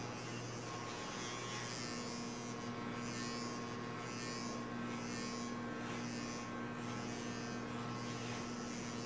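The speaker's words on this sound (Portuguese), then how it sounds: "É um dos pentes maiores da máquina." An electric hair clipper fitted with a large number 8 guard buzzes steadily while cutting hair during a fade correction, a continuous close motor whine with slight pulsing as it moves through the hair.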